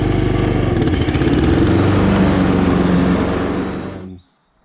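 A Hayter 48 Pro lawn mower's petrol engine runs loud and close with a steady mid-pitched drone, then cuts off abruptly near the end, leaving quiet.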